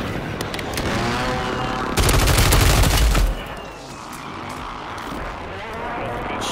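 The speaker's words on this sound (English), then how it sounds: "Request fire mission" An artillery fire mission striking in Call of Duty Warzone, dense rumbling explosions and rapid gunfire with a heavy burst of blasts midway, loud and continuous under a voice talking.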